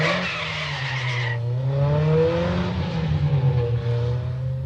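Fiat Panda car starting and pulling away: a sharp tire squeal gives way to a steady engine drone that rises and falls as it revs, loud and close.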